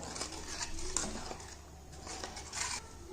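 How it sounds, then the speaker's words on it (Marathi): A utensil scrapes and clinks against a pot as eel fish curry is stirred, in close, uneven strokes over a soft background hiss. "आणि मला असं सर्व असं व्यवस्थित हलवून घ्यायचं"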